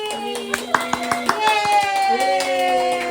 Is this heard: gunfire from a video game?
no